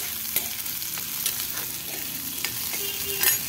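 Chopped carrots sizzle in a pan while a utensil stirs them, a steady frying hiss broken by several sharp scraping clicks against the metal, with no talking.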